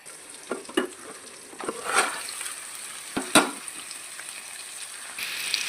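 Ivy gourd pieces fry in a pan with a soft continuous sizzle, broken by a few sharp clinks and scrapes of a spatula, close up and fairly quiet, no voices.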